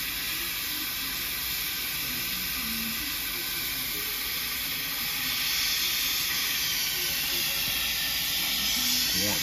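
Continuous steady hiss of an oxy-propane torch flame, close and loud, holding an even roar throughout and swelling slightly toward the end, with no talk.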